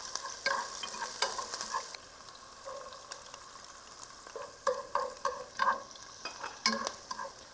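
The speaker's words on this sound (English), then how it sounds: "Okay, I think our oil is warmed up, ready to start cooking. And just push it back and forth to saute it." Onion and garlic sauté in warmed oil while a utensil pushes them back and forth, giving a steady sizzle with repeated scraping stirs that come in short bursts.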